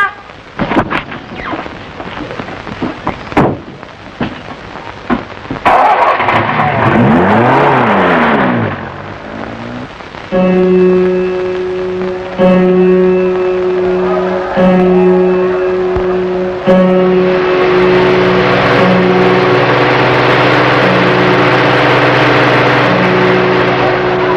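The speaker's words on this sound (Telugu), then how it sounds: "వచ్చేసింది కారు" A car pulls up in an old Telugu film scene, its engine rumbling and revving in rising and falling sweeps at moderate distance, then a steady musical score takes over and continues.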